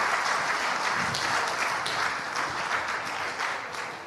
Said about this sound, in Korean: 따뜻하게 다시 한번 박수 쳐주시면 감사하겠습니다